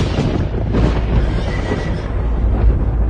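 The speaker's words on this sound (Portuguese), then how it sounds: "o morro estava coberto de cavalos e carros de fogo" Horses neigh and whinny loudly against a dense, rumbling background of hooves and clamor, a dramatic sound effect in an audio Bible scene of horses and chariots of fire, with no speech over it.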